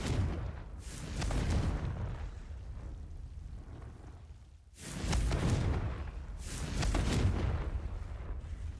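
Two long roaring bursts of Confringo spell explosions in the video game Hogwarts Legacy, the first rumbling for about four seconds and the second for another four, each loud and full with a sustained rolling tail.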